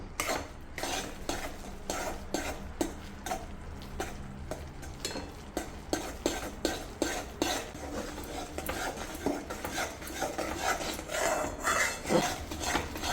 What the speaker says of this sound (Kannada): ಈ ಕಡಲೆ ಹಿಟ್ಟು ಈ ಥರ ನಾವು ಚೆನ್ನಾಗಿ ತಿರುಗಿಸ್ತಾ ಇರಬೇಕು